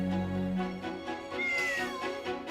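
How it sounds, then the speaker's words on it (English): A cat meows over game music in The Adventures of Elliot, a short rising-and-falling call sounding clearly on top of a steady melodic backing track, alone with no talk. "This cat might have died if you don't feed this cat."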